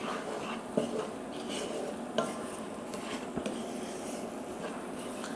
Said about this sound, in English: Just keep mixing it for a couple of minutes.